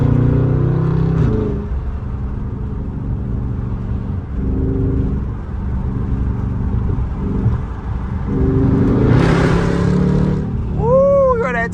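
A Dodge SRT 392 V8 tuned to 650 hp roars loudly up close as it accelerates, with sustained engine drone, a rising rev surge near the end, and tire and road rumble.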